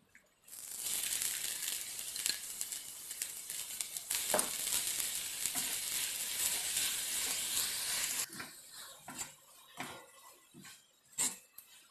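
Grated coconut drops into melting jaggery in a hot pan and sets off a loud, steady sizzle for several seconds. Softer stirring and scraping follow in uneven bursts.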